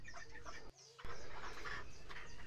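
Desi chickens cluck and call softly and fairly close, with brief clucks over a quiet backdrop and a short dip into near silence partway through.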